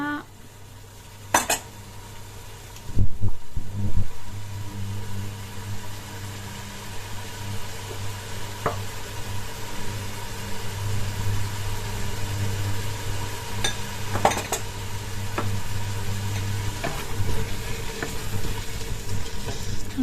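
350 grams of meat stirred in a cooking pot for harira: occasional clanks and scrapes of a utensil against the pot over a steady low background hum, with soft sizzling throughout and no talking.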